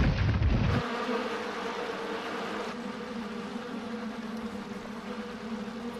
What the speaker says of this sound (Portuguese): Não, os zangões não estão formando enxame